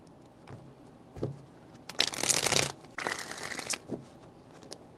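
Tarot cards being shuffled in three bursts, with a longer riffle in the middle and shorter ones before and after, close and fairly quiet.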